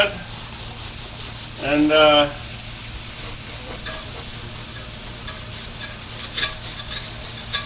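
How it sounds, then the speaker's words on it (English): A purple Scotch-Brite pad scuffs a part on a 1986 Chevy C10 short-bed pickup during reassembly, making repeated close, rhythmic rubbing strokes, with a voice speaking briefly partway through. "I'm going to come through and scuff it up, wipe it down, whatever, with a purple Scotch-Brite pad."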